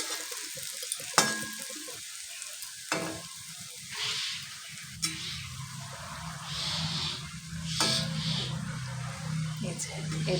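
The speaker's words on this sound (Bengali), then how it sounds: "তো আমি ভেজে নিয়ে এক এক করে, এই যে দেখো আবারও একটা দিলাম" Malpua pitha bubble and hiss as they fry in hot oil, a steady close sizzle with a few sharp clinks of a utensil. Someone talks softly over part of it.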